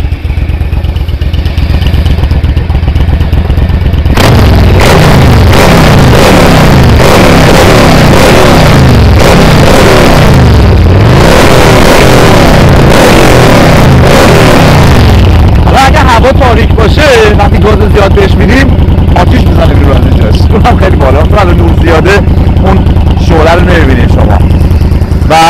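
A Yamaha V Star Classic 1100 cruiser motorcycle engine idles with a low throb, then is revved hard in loud, rough bursts close to the listener, settling back into a choppy idle.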